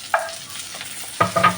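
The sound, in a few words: frying onions with golden-brown garlic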